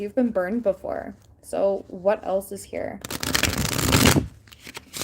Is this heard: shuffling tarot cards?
yes